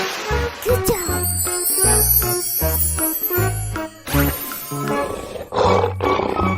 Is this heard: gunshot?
no